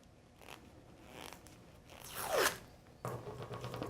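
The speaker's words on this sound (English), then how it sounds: "I might take some tape." Sticky tape pulled off a roll with a rising rasping zip, then torn and handled with crackly rustling, close with no talking.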